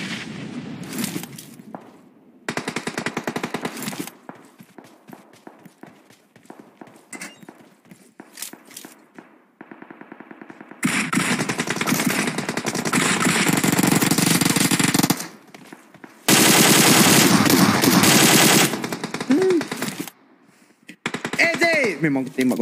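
Gunfire in a shooting video game, with loud rapid automatic bursts and single shots in long stretches, broken by gaps and mixed with voices talking.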